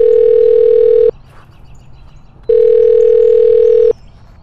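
A phone line gives its calling tone while a call is being placed: two loud, steady beeps, each about a second long, separated by a short quiet gap.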